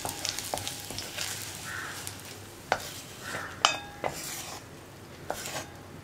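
Fried dried chillies are stirred and lifted out of hot oil for a Kerala chammanthi, giving a soft continuous sizzle under scattered utensil scrapes and a few sharp metallic clinks of a spoon against the pan.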